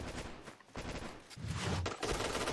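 Rapid gunfire bursts in the team shooter game Point Blank on a hangar map, loud and dense with brief gaps between volleys, no talk over it.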